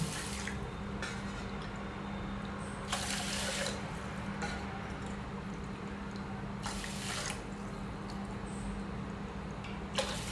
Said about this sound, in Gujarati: તો એની સામે આપણે 4 વાટકી પાણી એડ કરી દઈશું.